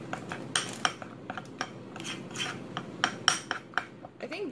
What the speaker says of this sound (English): So we're gonna mix those in.